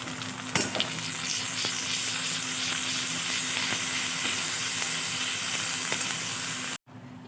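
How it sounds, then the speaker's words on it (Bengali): Bay leaves and garlic paste frying with fried onions in a kadai for kochi pathar jhol make a steady close sizzle with faint stirring clicks, then cut off abruptly near the end, with no voices. "পেঁয়াজ ভাজা হয়ে গেছে এবার কিছু তেজপাতা দিয়ে দিলাম সাথে রসুন কুচি সেগুলো বাটা সেগুলো দিয়ে দিলাম"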